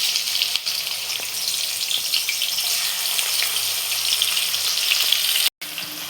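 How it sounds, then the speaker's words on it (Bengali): Prawns frying in hot oil give a dense, loud, continuous crackling sizzle close by, holding steady throughout apart from a brief cut-out near the end. "তেলটা গরম হয়ে গেছে, আমি চিংড়ি মাছগুলো ছেড়ে দিলাম।"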